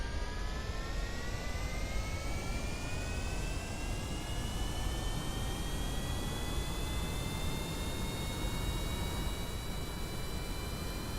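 Rocket engine thrust in Kerbal Space Program produces a steady, faint jet-like roar with a slowly rising whine throughout, with no talk.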